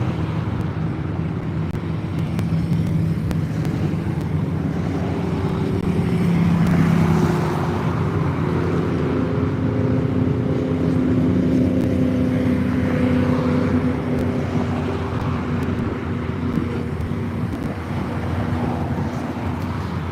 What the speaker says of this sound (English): Nice little Corvette.